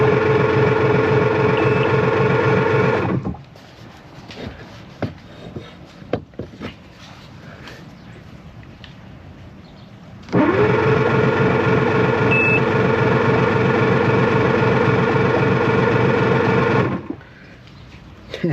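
A 1998 Evinrude 225hp outboard engine cranks without firing, a loud steady starter whine for about three seconds, a pause of quiet clicks and handling, then a second long crank of about seven seconds that stops without catching.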